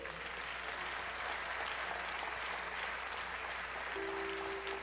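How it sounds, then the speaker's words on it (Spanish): A church congregation applauds, a steady wash of clapping that stays constant throughout, fairly distant and even in level, with a faint tone near the end. "Dar un aplauso al Señor."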